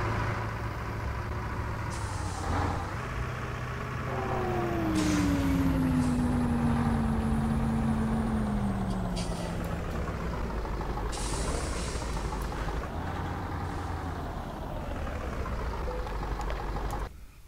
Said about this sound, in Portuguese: Caminhão MAS 504B.